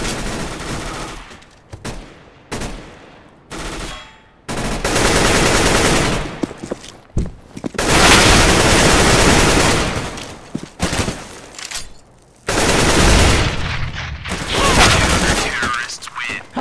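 Gunfire in Counter-Strike on de_dust2: bursts of loud automatic rifle fire and single shots in broken clusters, with brief pauses between volleys and a voice talking over parts of it.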